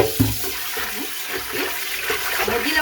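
Water runs steadily from a kitchen sink tap as dishes are rinsed after a meal. The hiss is close and continuous, with a few splashes, and no talk over it.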